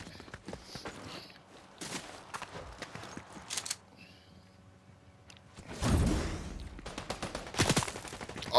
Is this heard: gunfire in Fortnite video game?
yes